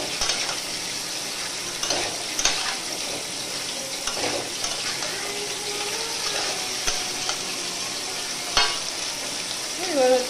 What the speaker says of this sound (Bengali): আর এবার হচ্ছে কুমড়োটা দিয়ে দেবো।